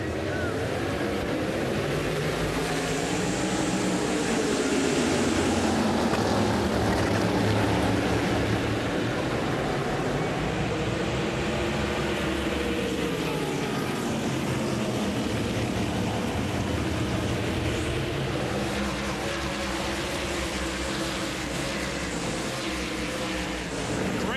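Whelen Southern Modified race cars run on a Saturday night at Caraway Speedway in Sophia, North Carolina, in 2010, a loud continuous engine roar whose pitch swells and falls repeatedly as cars sweep past.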